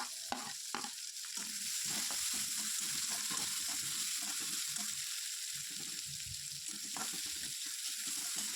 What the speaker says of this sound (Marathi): आता यामध्ये चिरून घेतलेला कांदा आणि शेंगा सुरुवातीला तेलामध्ये परतून घ्यायचा आहे